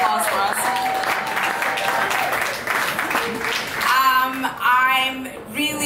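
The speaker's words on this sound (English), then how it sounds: "Give her a huge round of applause for us." Audience applause for a staff member at a Seeds of Africa founder's talk, a steady wash of clapping throughout with a voice speaking over it.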